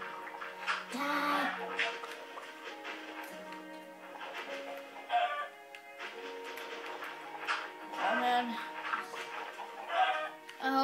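A chicken in the Minecraft video game clucks in short bursts, repeating several times over a busy background of game sounds and music.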